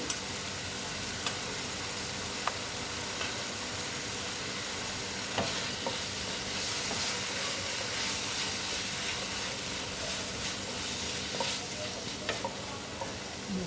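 Potatoes sauté with spices in a pan for matar paneer, a low steady sizzle under repeated scraping stirs and sharp spatula knocks against the pan.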